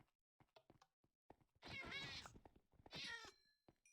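A cat meowing, two long, loud, wavering cries preceded by a few faint clicks and small sounds, close and alone.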